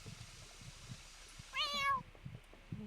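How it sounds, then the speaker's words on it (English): A single clear meow from a cat in The Sims video game rises above soft background game sounds and music. "Where's the cat? There's the cat."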